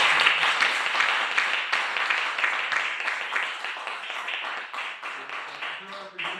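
Steady, dense applause from an audience at a book presentation of short story collections, many hands clapping continuously and fairly close, slowly thinning toward the end.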